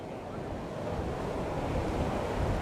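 Waves rolling in on a Western Australian beach at high tide, a steady broad wash of surf mixed with wind buffeting the microphone, no voices.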